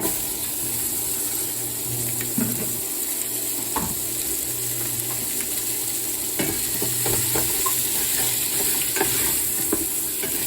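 Onions sizzle loudly in a greasy pan, a dense steady frying hiss with intermittent scraping and clacks from a utensil stirring close by, and no one speaking.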